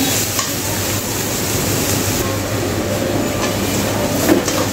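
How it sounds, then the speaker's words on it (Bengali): Chopped onions and garlic frying in a pan, a loud continuous sizzle with light stirring, close and without speech. "একটু লাল লাল করে পেঁয়াজ রসুনগুলো ভেজে নেব"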